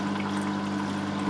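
Water pours steadily into an aquarium canister filter tank with a continuous, close splashing rush, and no talk is heard.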